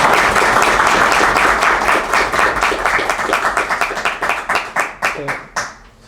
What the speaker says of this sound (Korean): 우리 그러면 한번 뜨거운 박수를 해주십시오.